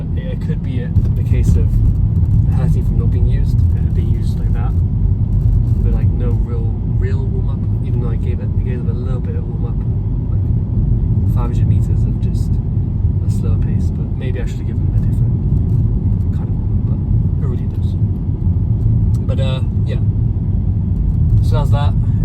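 A car drives steadily on a road after a morning run, its low engine and road rumble continuous and fairly loud, with someone talking over it throughout.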